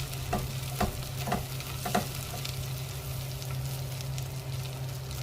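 Tomato sauce is stirred into a sizzling dish in a frying pan, with a few distinct scraping strokes of a utensil over a continuous close hiss of frying, no talk.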